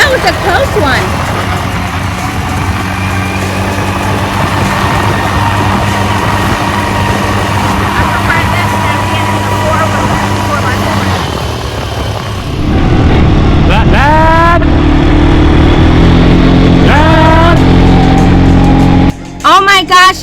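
ATVs roaring off-road across Dubai desert dunes, a loud continuous engine drone that shifts pitch as throttles change, with excited voices talking and shouting over the motors.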